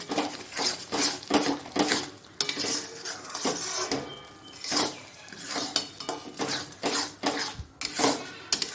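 Lote fish is stirred with spices in a metal wok, giving repeated scraping and clinking strokes of a utensil against the pan in an uneven rhythm, close and fairly loud, with no talking.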